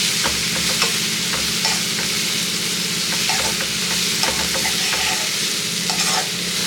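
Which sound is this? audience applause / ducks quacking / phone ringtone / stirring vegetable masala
stirring vegetable masala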